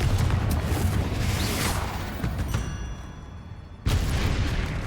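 A Confringo blast spell explodes in the video game Hogwarts Legacy: loud, booming, rumbling bursts with a whooshing edge, a brief lull, then another sharp blast hitting near the end.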